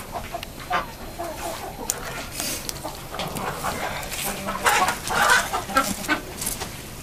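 A large rooster with small spurs clucks in a barn or coop, with scattered calls and rustling from other fowl around it, fairly near and with no one talking.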